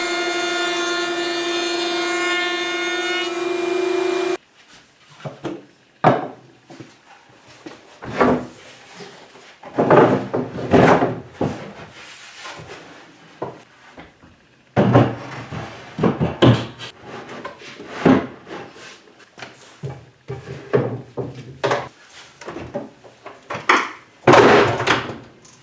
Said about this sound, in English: I'm putting an 1/8 inch round over on the shelves and the center sections of the doors